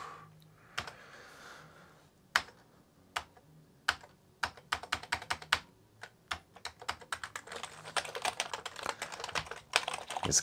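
Keys are pressed on an Amiga 500 keyboard: sharp, close clicks start sparse, then turn into rapid, irregular typing that grows denser toward the end, with no talk.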